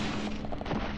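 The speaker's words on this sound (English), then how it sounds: "Especially don't want to get caught by that explosive barrel." An explosive barrel blows up in the video game Deadly Premonition, a loud, dense burst of blast noise filling the whole moment.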